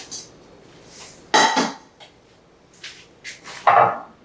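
Hot strained macaroni tipped from a pot into a 9 by 13 inch casserole pan, giving two brief loud clattering scrapes of pasta and metal separated by quieter handling knocks, close up with no talking.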